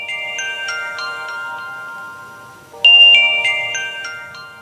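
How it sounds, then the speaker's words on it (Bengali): A phone ringtone chimes in a Bengali audio drama, a bright electronic melody of tinkling notes that repeats after a short pause, clear and close with no talk over it. "গীতাদির ফোন বাজছে।"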